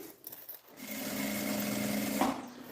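A sewing machine stitches a handbag, running in a steady fast whir for a couple of seconds after a brief start, fairly close and quiet with no voices over it.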